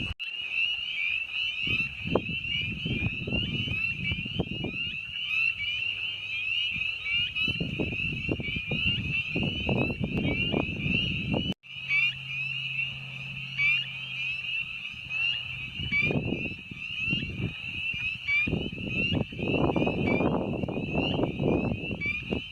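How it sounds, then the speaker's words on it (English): Spring peeper frogs call at night in early spring, a continuous high-pitched peeping chorus running the whole time, with nearby low rustling and handling noises coming and going beneath it. "Got a spring peeper calling right here. We got another one over there."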